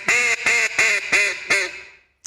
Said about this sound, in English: So with a duck call, you're basically going 10,